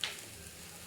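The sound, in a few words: sambar boiling in a pot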